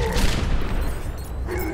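Rapid gunfire crackles in a dense burst of shots in Overwatch, loud and close, with booming low-end impacts throughout.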